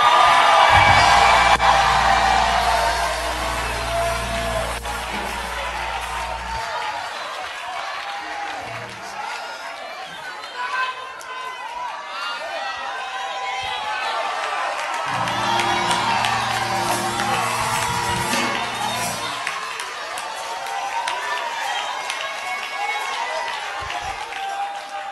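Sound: church congregation clapping and shouting hallelujah

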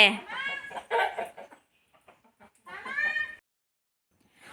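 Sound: hen clucking

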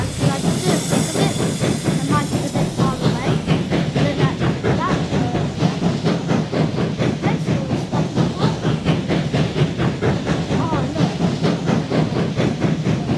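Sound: steam train hissing in video game

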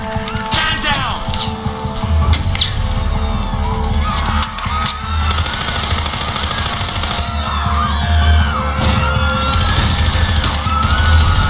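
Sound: gunfire in video game Act of War: Direct Action

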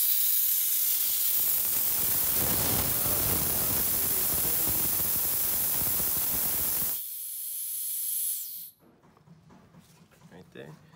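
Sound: gas hissing out of hydraulic hammer bleed-off valve

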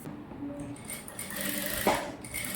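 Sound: sewing machine stitching a girl's gown

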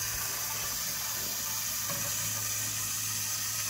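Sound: filling a container with water to 3 gallons

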